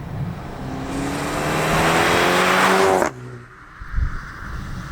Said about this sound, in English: So we'll go straight into Sport Plus, which is where we get the most amount of cracks and pops.